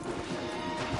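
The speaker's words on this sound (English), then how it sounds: "Okay, let's dismount here. We won't get the horses down this path." Horses in a video game clop and shuffle with a snorting whinny as riders dismount, a short, close and dense burst of hooves and movement with no talk.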